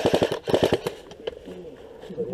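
Airsoft guns firing outdoors in a rapid burst of sharp snapping shots, then a few scattered single shots, fairly close, with people talking over it.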